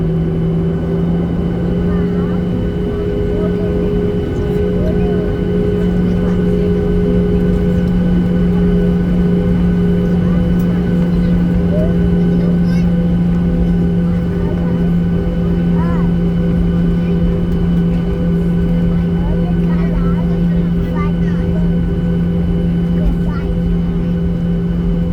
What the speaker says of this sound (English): We're taxiing now down to Alpha.